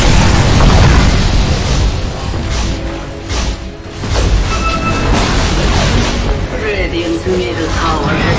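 Radiant's middle tower collapses in Dota 2 with a loud, sustained rumble of booming explosions that fills the whole stretch, dipping briefly midway and then swelling again.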